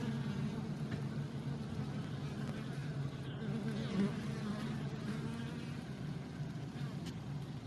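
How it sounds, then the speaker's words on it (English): Bees fly out and back around a hive on a warm day, giving a steady, dense buzzing drone that carries on throughout without a break. "in the warm days, many bees go out and come back"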